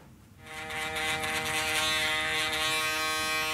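An electric shaver runs during a curly hair fade and beard trim, switching on after a brief quiet moment into a steady, close, high-pitched buzz that holds to the end.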